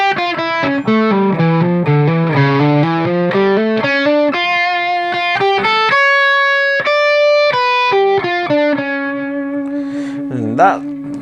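Electric guitar with distortion slowly plays a Mixolydian b6 lick over a dominant chord, a sustained run of single notes that rises to long held tones and ends on a note shaken with vibrato, loud and close with no talking.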